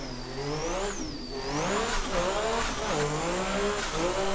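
Drift car held at full throttle through a long pull, its engine note climbing and dipping in rising harmonics with tire squeal over a steady roar, loud and close throughout.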